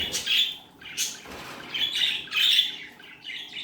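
Mating budgerigars squawk and chirp in bursts, shrill chattering calls close by with brief pauses between.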